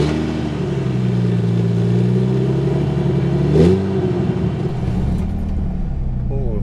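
Jaguar V12 car engine converted to a manual gearbox, running steadily with a smooth low drone and a brief rev swell midway, fairly loud and close, with no talking over it.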